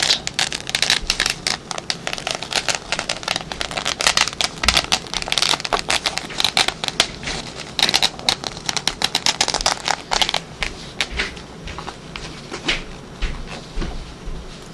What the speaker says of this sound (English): It has a nice scratchy sound.